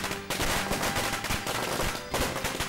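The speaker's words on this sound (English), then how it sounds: "Once ignited, the firecracker lets out a loud popping noise" Firecrackers set off during a festive season pop in a loud, rapid, dense string of sharp cracks with only a brief gap, close by.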